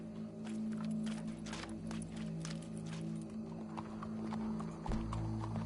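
Horse hooves clip-clop at a steady walking pace in the video game Red Dead Redemption 2, distinct repeated clacks over a constant low hum, with no voices.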